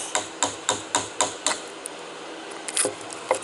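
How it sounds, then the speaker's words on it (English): Metal sides on a crane mast and jib for a Woodmizer LT15 sawmill are struck with a hammer in a steady series of sharp, ringing taps, about five evenly spaced, then a few scattered lighter hits, close by. "just keep hammering down the sides just like this"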